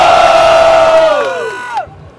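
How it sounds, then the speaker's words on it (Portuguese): A crowd at a rap battle final cheers and shouts loudly for a contestant, a sustained burst of yelling that tapers off and cuts out near the end. "Diferentemente quem acha que deu Pedrinho, faz barulho"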